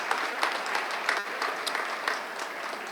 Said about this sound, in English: let's give a round of applause to the counselors, teachers, staff members at De La Salle High School.